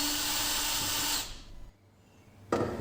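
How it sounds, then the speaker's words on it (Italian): A power drill drives out 2.5 mm metric hex screws on an Elegoo Saturn resin 3D printer, giving a steady close whir for about a second, then a pause before it briefly spins up again. "Procediamo quindi con il cambio della punta e andiamo a svitare."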